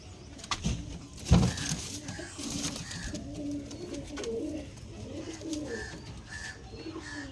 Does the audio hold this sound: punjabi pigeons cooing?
yes